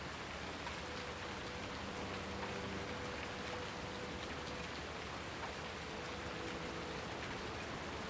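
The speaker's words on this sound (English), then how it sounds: "see if this rain can go." Steady rain falling on a farm in a farming game, a constant even hiss of drops with no voices.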